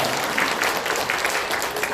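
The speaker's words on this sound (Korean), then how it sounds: "우리 하나님께 영광의 박수 올려드리겠습니다" Packed, continuous clapping from a church congregation fills the room at steady loudness, a thick wash of many hands with no speech over it.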